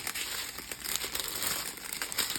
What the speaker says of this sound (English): oh, rustling